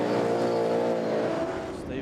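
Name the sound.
speedway race cars racing on a dirt track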